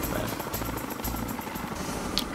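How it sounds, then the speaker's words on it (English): Helicopter rotor chopping in the video game Ty the Tasmanian Tiger 2, a steady rhythmic whirring drone with engine hum running continuously throughout, fairly loud and close with no talking. "I think it's that helicopter."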